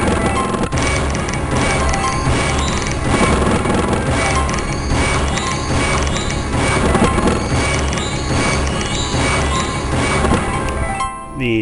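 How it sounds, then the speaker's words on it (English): Dense video game audio from Conquest of Elysium 4: imps' summoning noises pile up with music and effects into a loud, continuous wash that runs the whole length, with no clear breaks. "The summoning noise you hear are all the imps."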